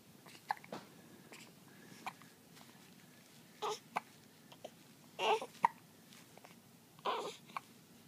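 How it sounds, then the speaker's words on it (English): A baby makes small hiccup sounds and soft babbling vocalizations, scattered in brief bursts over a quiet indoor background. "You got hiccups?"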